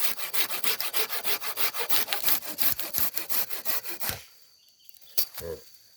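A saw cuts through a bamboo pole in quick, regular back-and-forth strokes, loud and close, then stops after about four seconds, followed by a few scattered scrapes and knocks.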